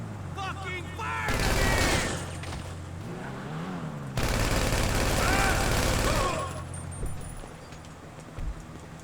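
Rapid bursts of gunfire in the video game GTA Online during a farm raid, two loud sustained volleys separated by a brief lull, mixed with engine rumble and a shouting voice.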